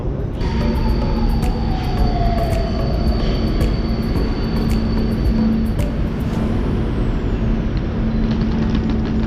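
Steady rumble of a driverless metro train in motion, a continuous loud drone with a faint electric whine rising and falling, no voices.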